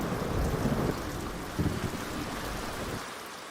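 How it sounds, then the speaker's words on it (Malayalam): Rain falls steadily on a hilltop, a soft wash of noise with low rolls of thunder rumbling faintly underneath, heard alone at low volume. "മഴ ആദ്യം പെയ്യുന്നത് കുന്നിന്റെ മുകളിലാണ്,"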